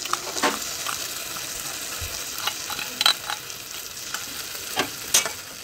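Masala paste for fish curry sizzles and fries in a pan while a spoon stirs it, scraping in irregular strokes over a continuous close crackle.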